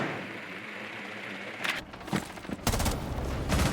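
Gunfire in the video game Rainbow Six Siege: a few sharp bursts of shots, the first near the middle, then heavier volleys at the end over a steady game ambience.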